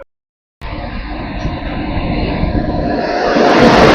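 A Howrah–Bardhaman super local train near Howrah station starts after a short silence, with a broad rushing rumble that builds steadily louder and nearer.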